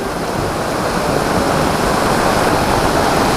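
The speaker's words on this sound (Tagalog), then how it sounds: "Grabe lakas ng ulan" Heavy typhoon rain pours steadily in a dense, continuous roar, loud and close, with no voices or breaks, during flooding in the mountains.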